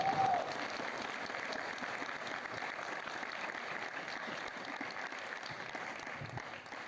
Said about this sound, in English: can we give these girls another round of applause?